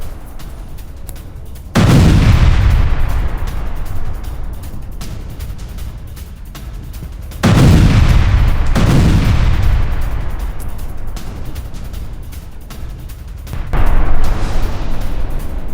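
Explosions from a drone attack in Kherson, shown in news footage, land as three heavy, booming blasts spaced several seconds apart, each followed by a long rumbling decay and continuous low crackle.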